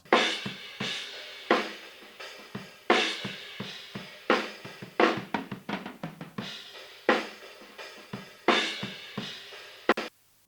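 Metal drums captured by a close room microphone in a natural-sounding room: bursts of snare and cymbal hits with tom fills and quick rolls, loud and near, the tone roomy but tight, with no talking.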